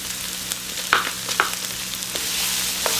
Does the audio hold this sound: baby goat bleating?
no